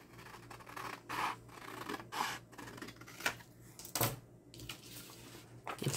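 Scissors cutting paper along a line, with repeated scratchy, rasping snips and paper rustle roughly once a second, close and fairly quiet, and no talking over them.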